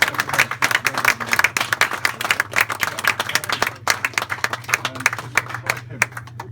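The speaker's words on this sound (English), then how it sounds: "Big round of applause." Volunteers at a village shop award celebration clap in a sustained round of applause, dense overlapping hand claps close by, with a low steady hum underneath and some chatter mixed in.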